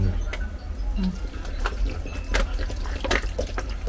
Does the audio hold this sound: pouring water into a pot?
yes